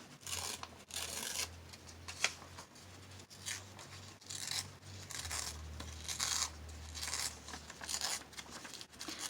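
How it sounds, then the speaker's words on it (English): Paper edges being torn off by hand for a vintage Christmas junk journal, heard as repeated close, crisp ripping bursts over a steady low hum, with no talking. "I'm gonna tear off the edges."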